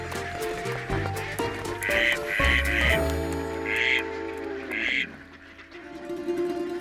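Ducks quacking in short bursts on an icy river basin in winter, with splashing water and a steady background of river noise, fairly close.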